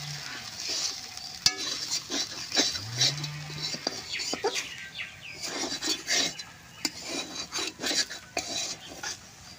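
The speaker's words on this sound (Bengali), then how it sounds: "আটাটা দিব আর বেশ সুন্দর করে নাইড়ে থাকেন।" Wheat flour stirred with water in a bowl, giving close, irregular scraping and stirring strokes, with no talk.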